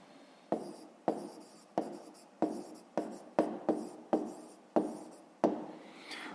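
A pen writes an answer by hand on paper, a series of about a dozen short scratchy strokes in a steady rhythm, close and fairly quiet.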